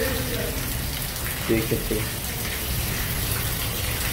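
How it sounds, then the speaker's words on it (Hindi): Very heavy rain pours down as a dense, steady hiss that lasts throughout, and someone speaks briefly midway. "भाई बहुत तेज़ बारिश हो रही है, बहुत तेज़"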